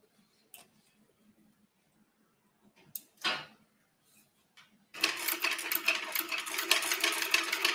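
A sewing machine stitching tabs onto a bag starts after a few quiet seconds of faint handling clicks and taps, then runs in a steady, fast, close mechanical chatter until the end.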